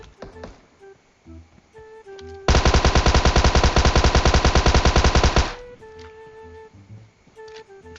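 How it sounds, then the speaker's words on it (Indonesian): Sustained automatic gunfire from a PUBG Mobile match, a rapid unbroken burst of about three seconds that rings out loud and close, with quieter game sounds and scattered talk before and after. "Ada yang nembak dari atas"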